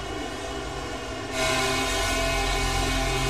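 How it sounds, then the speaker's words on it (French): A train rushes through the Channel Tunnel during rail replacement work, its loud, steady rumble and metallic roar surging in abruptly partway through and holding close and dense to the end. "Et tu sais, Jamy, pendant toute la durée des travaux, les trains continuent de circuler. Bah tiens, en voilà un"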